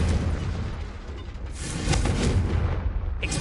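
Confringo blasting spell from Hogwarts Legacy erupts in a loud, sustained roaring explosion with crackling bursts, dense and rumbling throughout.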